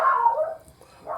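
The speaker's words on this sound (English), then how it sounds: "I'm going to go see what the dogs are barking at" A dog gives a single short bark up close, followed by a brief whine and a softer second yelp, with other dogs implied nearby and no speech over it.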